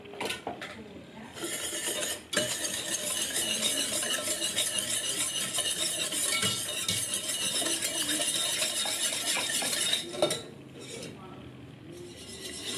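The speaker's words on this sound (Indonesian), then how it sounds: "Masak sambil diaduk-aduk hingga mendidih." A strawberry pudding mixture is stirred in a cooking pot until it boils for a layered pudding cake, giving a steady, continuous scraping and clinking of utensil against metal that runs close and fairly loud throughout.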